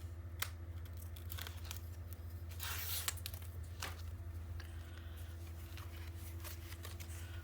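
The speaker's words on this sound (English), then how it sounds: "Pick apart the tape so that this can get set down." Tape being picked and peeled apart while building a 9 x 9 mini paper album, a steady run of close crinkling, scratching and tearing noises over a low constant hum.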